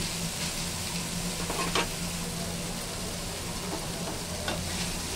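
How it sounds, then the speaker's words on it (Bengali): Snake gourd cooks with salt in a covered pan, releasing its own water, giving a steady, even sizzle and hiss throughout with a few faint clinks of stirring, with no talk. "নুন দিয়েছি, এবার ঢাকা দিয়ে এটা সিদ্ধ করে নেব"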